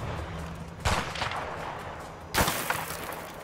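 Sniper rifle gunfire in a video game, two sharp shots about a second and a half apart, each followed by a brief decaying echo over a low background hum.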